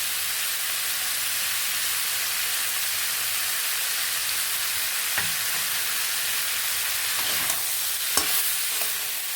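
Taro stolons with grated coconut and salt in a pan, a dense continuous hiss of frying with occasional faint stirring clicks and scrapes near the end.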